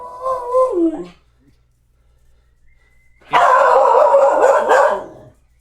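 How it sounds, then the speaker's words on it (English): Bolt, a pet dog, lets out loud close barks: a short yelping bark-howl, a pause of near silence, then a longer drawn-out barking howl. "Everybody, that's Bolt, my dog. He might sporadically bark during the stream"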